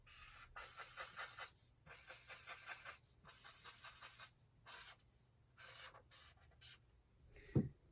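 Marker or chalk strokes scrape across a board in short bursts, fairly faint and close, with pauses between strokes and a small knock near the end.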